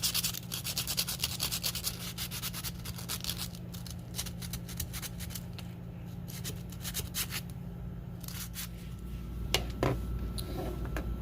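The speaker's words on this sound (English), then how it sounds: "Sandpaper, it's a nice fix for those rough spots, smoothing them out." Sandpaper rubs rough spots smooth on a denture: quick, soft scratchy strokes repeat steadily up close, fairly quiet, with no talking.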